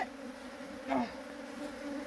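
Honey bees buzz steadily around an open beehive during spring hive preparation, a close, continuous drone with one louder bee passing near midway.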